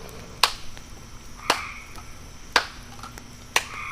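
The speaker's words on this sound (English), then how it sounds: "we're going to do a energy cone using clapping, where we'll start out slow," Slow, evenly spaced claps from a group starting an energy cone in a full moon blessing ritual, four sharp claps about a second apart over a quiet background.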